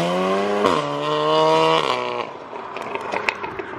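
A McLaren 720S fitted with a new aftermarket exhaust accelerates hard, its engine note rising in pitch through two gear shifts before the throttle lifts into crackles and pops, loud and close with no talking.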